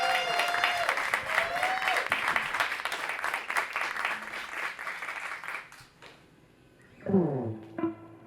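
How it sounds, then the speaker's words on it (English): A theater audience claps in a sustained, fairly loud burst that fades out after about six seconds, followed by a few brief sung or spoken vocal notes. "Please give a round of applause for this handsome man"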